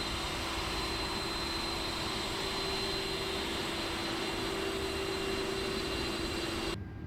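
Engine 2 of an Airbus A330-300 spooling up during start in Microsoft Flight Simulator 2024, a steady loud turbine whine and broadband roar with a constant tonal hum, cutting off abruptly at the end.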